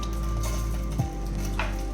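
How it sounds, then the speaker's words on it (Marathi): Water with a spoonful of ghee and a pinch of salt boils in a pot for modak dough, giving a steady close bubbling hiss with a faint clink partway through. "हे बघा, इथे पाणी उकळलं."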